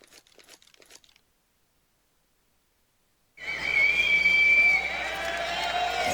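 An arena crowd cheers for team SK at the CS:GO Boston Major: after a near-silent gap, loud crowd noise swells in suddenly with a shrill whistle held over it, then stays at a steady roar.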